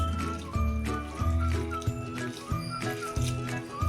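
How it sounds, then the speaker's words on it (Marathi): Wheat grains being rubbed and washed by hand in water, with repeated wet squishing and sloshing strokes in an uneven rhythm, close and fairly loud. "हे असं चोळून चोळून तीन वेळा हे स्वच्छ धुवून घ्या"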